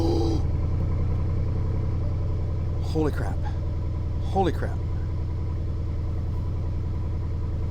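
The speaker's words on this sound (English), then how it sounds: "Foot on brake. Start engine." An engine turns over and settles into a steady, deep idle with a rumbling drone throughout, while a person exclaims twice over it.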